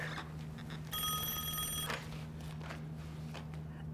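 A telephone rings with a single sustained electronic trill lasting about a second, fairly clear over a low room hum and faint background noise.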